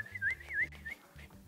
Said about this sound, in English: My whistling works.